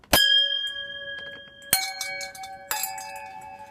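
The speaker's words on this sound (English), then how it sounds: "these are bells" Three bright metallic bell strikes, each ringing out with a long shimmering decay, spaced about a second apart, close and clear.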